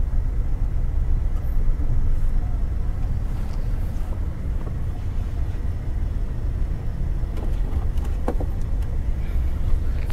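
A car driven by a learner rolls along with a steady low engine rumble and road noise, close and constant, with faint clicks and bumps inside the cabin.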